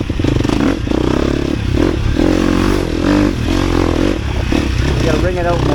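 A 250cc motorcycle ridden hard, its engine droning and revving loudly and close throughout, with a voice faintly under the engine noise.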